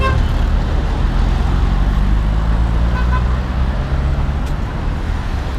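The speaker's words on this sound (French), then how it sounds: "Vous avez vu comment les Libanais ils klaxonnent pour qu'on monte dans leur voiture?" Dense Lebanese street traffic with car engines rumbling close by and short car horn toots sounding over the steady roar.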